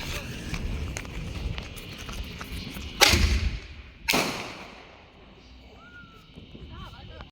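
Artillery ball shell fireworks at a city street display on the Fourth of July bursting in two loud, sharp booms about a second apart, then a fading rumble, with people talking and a whistle-like tone in the background.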